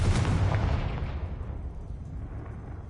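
A booming explosion from the Confringo fire spell in the game Hogwarts Legacy, a loud low blast at the start that rolls and fades into a long rumbling decay.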